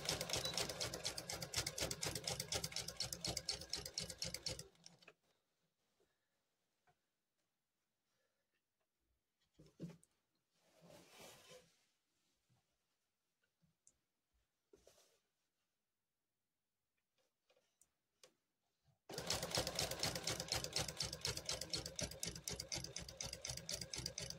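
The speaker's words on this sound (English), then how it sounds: "we'll start sewing at 1/4 inch there" Sewing machine stitching quilt pieces at a quarter-inch seam with back stitching, in two runs of steady rapid clatter, one at the start and one at the end. Between them is a long quiet stretch of faint fabric handling.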